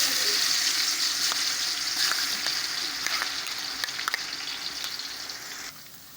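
Garlic dropped into two kilos of hot oil for a shahi daal, a loud, dense, close crackling sizzle with scattered sharp pops, easing slightly toward the end, with no talking.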